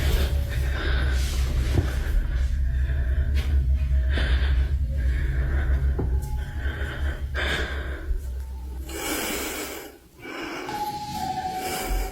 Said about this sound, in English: That's her breathing